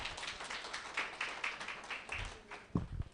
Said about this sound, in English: I think we give him a round of applause